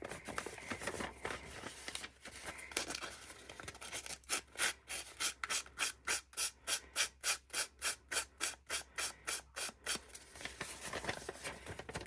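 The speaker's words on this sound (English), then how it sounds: "take your emery board or a bit of sandpaper and you can just, let's just emery board a bit out there" Paper ephemera is worn down by an emery board, with close scratchy rubbing that settles into a fast, even run of back-and-forth strokes through the middle of the clip. No one speaks.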